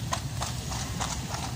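Horse hooves clip-clop steadily on a wet, windy Blackpool street as a horse pulls a princess-style carriage, the regular beats close and clear over a constant rumble of wind and traffic.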